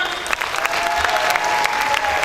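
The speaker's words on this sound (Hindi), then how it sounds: "उनके लिए बहुत बहुत तालियां" A crowd at a stage event applauds guests from Balochistan, including a Pride of Performance honoree, with a dense, lively burst of clapping that fills the whole moment, close and loud, with a few sharper individual claps standing out.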